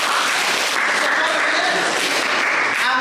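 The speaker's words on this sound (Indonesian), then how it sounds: "Tepuk tangan." A classroom of students claps together, a dense, fairly loud wash of applause lasting a few seconds with faint voices mixed in.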